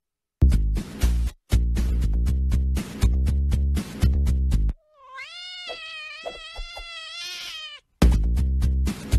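A cat meows repeatedly in loud, drawn-out, insistent cries, then gives a wavering, yowling caterwaul before more sharp meows, all close and clear.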